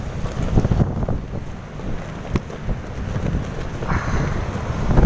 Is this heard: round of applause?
no